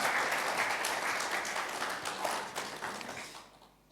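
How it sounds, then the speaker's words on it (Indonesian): Steady applause from a church congregation fills the room, dense and sustained, then fades out quickly at the end. "Mari kita sambut mereka dengan tepuk tangan."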